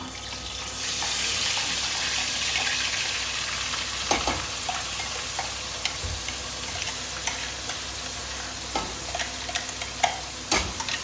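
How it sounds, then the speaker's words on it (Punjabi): Tempering (tadka) sizzling in a pan for a vegetable curry in a home kitchen, a steady hiss of frying oil with scattered sharp clicks and clatters of utensils over several seconds, no talk. "ਹੁਣ ਦੂਜੇ ਪਾਸੇ ਆਪਾਂ ਲਾ ਦਈਏ ਤੜਕਾ ਸਬਜ਼ੀ ਨੂੰ"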